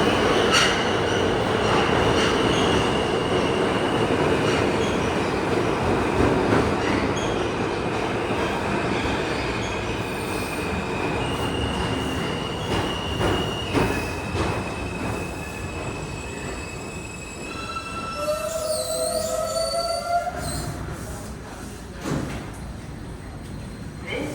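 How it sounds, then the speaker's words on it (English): An R subway train arrives at Whitehall Street–South Ferry station, a loud rumbling approach with clattering wheels, then sharp squealing brakes and a rising whine as it slows to a stop, with voices faintly underneath. "They have an arriving R train to the left."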